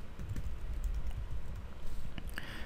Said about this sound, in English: the password box you're gonna type in your password